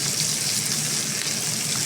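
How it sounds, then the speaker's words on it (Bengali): Pieces of farmed pangas fish fry in hot oil, giving a steady, close, unbroken sizzle with no speech. "মাছ ভাজা হচ্ছে"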